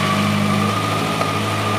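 A 2014 Honda CB1100 motorcycle engine idles steadily and smoothly close by, a continuous even hum with no talk.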